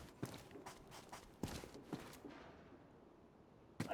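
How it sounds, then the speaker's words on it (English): Footsteps in the video game DayZ: a few soft, uneven steps close by, quiet thuds spaced about half a second apart, then a pause and one more step. "Thought I heard footsteps."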